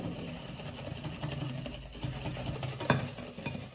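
Cake batter for a chocolate layer cake is whisked vigorously by hand until frothy, giving a quiet, steady rhythmic stirring and tapping of the whisk in the bowl, with one sharper clink near the end.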